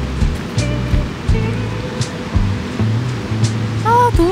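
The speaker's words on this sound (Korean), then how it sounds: "앞에 바닷가도 있고." Sea waves wash onto a beach in Da Nang, a steady broadband surf roar with periodic swells, some low rumbling bursts and a brief tonal sound near the end.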